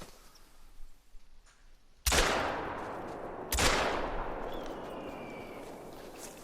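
Two loud, sharp blasts from a 12 gauge shotgun loaded with buckshot, fired at a whitetail buck outdoors, each one cracking close by and then trailing off into a long, fading echo.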